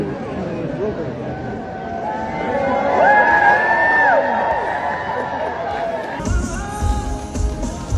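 A huge crowd presses around a bride as she comes out at a celebrity wedding, with loud, bustling chatter and shouts, high tonal whistles in the middle, and a sharper surge of noise near the end.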